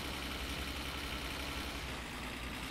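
A V8 engine idles in the driving game My Summer Car, a steady, loud, rumbling drone with no break and no talk over it.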